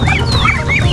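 Chickens, all of them roosters, cluck and call steadily at close range, their overlapping squawks and chirps filling a busy backyard flock with no pauses.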